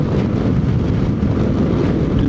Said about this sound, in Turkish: Dün de rüzgar vardı. Bugün de bir rüzgar var.